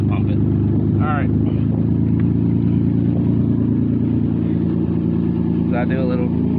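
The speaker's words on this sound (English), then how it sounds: "Just gonna go around the block so you guys can hear the car." A car fitted with a new muffler drives around the block, its steady low exhaust drone loud and constant throughout, with brief squeaks over the top.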